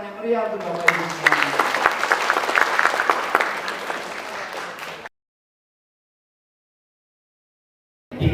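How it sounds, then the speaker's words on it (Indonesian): Loud, dense applause from an audience at an indoor government event in a hotel in Jember, Indonesia, for about five seconds, then abrupt silence before a brief burst of sound at the very end. "Boleh berikan tepuk tangan yang meriah untuk Bapak Ibu semua."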